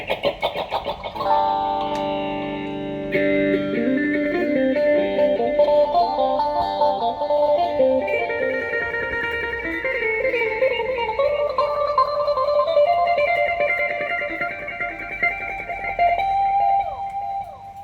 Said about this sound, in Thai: ต่อมานะครับ เป็นอะไรเอ่ยแฟงเจอร์